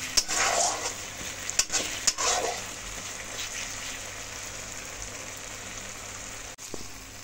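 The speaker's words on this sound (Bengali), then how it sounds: "এবার মশলার মিশ্রণ মশলা কষিয়ে নিচ্ছি" Spice paste of turmeric, salt, cumin powder, tomato, green chili and ginger frying in a pan for a Bengali katla fish curry, with a steady close sizzle and a few scraping stirs early on.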